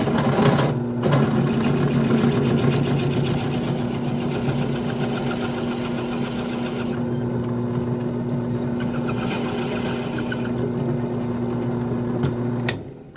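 A drill bores through a cigar pen blank in a woodworking shop, a loud steady motor whine with a strong constant hum that runs nearly the whole time and cuts off abruptly at the end.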